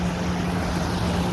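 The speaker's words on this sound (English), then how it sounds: "Here's the little waterfall that they have" A small garden waterfall spills into a little stream, giving a steady, close rush of splashing water with no pauses and no voices.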